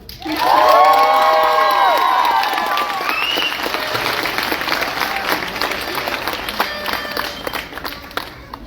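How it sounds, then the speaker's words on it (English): A graduation audience for the Alpine Academy class of 2024 bursts into loud applause with whoops and cheers, the clapping swelling quickly and then tapering off gradually over several seconds. "everyone, round of applause for them"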